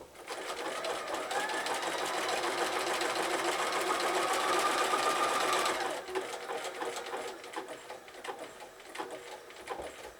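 A sewing machine zig-zag stitching appliqué on birthday bunting runs in one loud, steady whirring burst for about six seconds, then stops, leaving quieter handling and fabric rustle.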